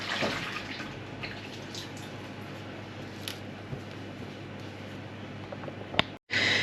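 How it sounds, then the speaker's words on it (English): Hands being washed under running water in a home kitchen, with a steady moderate stream and small splashes, then an abrupt cut near the end; close and continuous, no voices. "So I'm just going to wash my hands"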